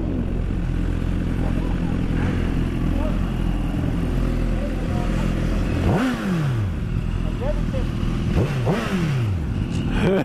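A small Yamaha motorcycle with an engine under one litre idles with a steady mid-pitched rumble, then revs sharply twice near the end, the pitch rising and falling each time, with faint voices in the background.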